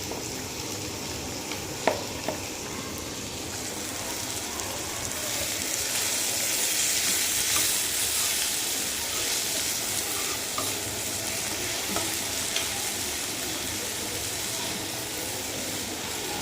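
Hilsa fish frying with onion and a little salt in a pan, a continuous dense sizzle with steady scraping and stirring throughout, close and fairly loud.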